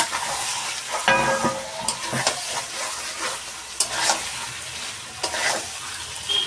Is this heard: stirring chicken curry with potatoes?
yes